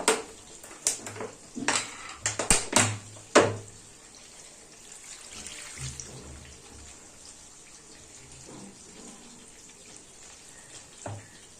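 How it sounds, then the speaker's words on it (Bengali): Water is poured into a pot of Bombay duck (lote fish) chorchori laid over vegetables, starting with a few close clanks of utensils, then a soft, fairly quiet trickle of liquid. "জল দিয়ে দেবো পরিমাণ মতন"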